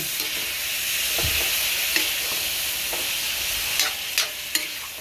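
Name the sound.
stirring pork in pan, rendering its fat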